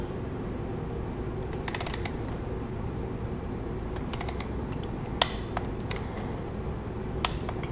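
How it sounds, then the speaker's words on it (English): Ratcheting clicks from a torque wrench tightening a spark plug on a BMW R1200RT/LC motorcycle during a service, sparse metallic ticks in short bursts over a low steady hum, close and fairly quiet. "Let's torque this to 12 Newton meters."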